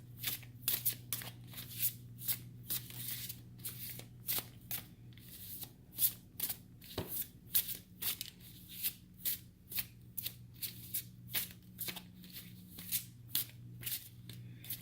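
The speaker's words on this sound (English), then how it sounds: "I'm just going to be shuffling this way now and see what cards decide to present" A deck of tarot cards is shuffled by hand in quick, repeated riffles, each a sharp crisp burst following the last in an even rhythm, close and clear.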